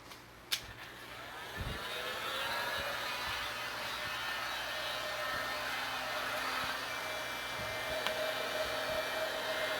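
A heat gun warms a Kydex sheet for a two-piece OWB holster, giving a steady, close whoosh of blown air that runs unbroken after a sharp click at the start.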